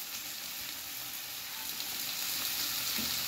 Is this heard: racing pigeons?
no